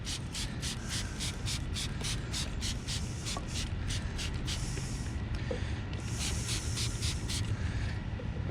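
Rapid, repeated short sprays of a spray bottle applying 303 Aerospace Protectant to a Nissan Skyline R32 dashboard, about a dozen quick spritzes followed by a few longer hissing bursts, close by.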